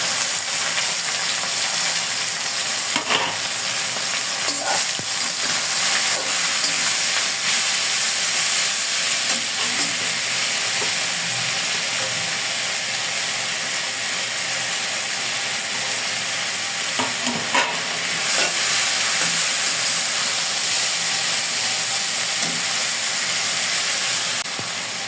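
Jute leaves (pat shak) fry with chopped garlic and onion in a pan, a continuous close hissing sizzle broken by occasional scraping stirs of the spatula, loud and steady throughout.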